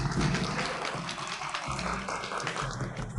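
An audience applauds to welcome a judge who is a five-time cooking competition champion, a soft, fairly faint patter of clapping that runs on evenly without voices.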